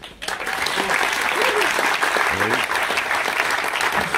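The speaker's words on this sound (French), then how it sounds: "Je voudrais qu'on l'applaudisse." An audience at a tribute evening applauds loudly and continuously, dense clapping filling the room, with a few voices calling out beneath it.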